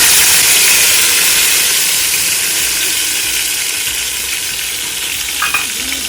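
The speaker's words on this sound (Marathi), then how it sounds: "आता यामध्ये मला घालायची आहे हिरवी पेस्ट" Green paste fries for a vegetable biryani, giving a loud, close, continuous sizzling hiss that fades slightly over several seconds. No talking.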